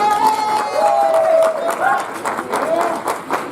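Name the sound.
audience applause and cheering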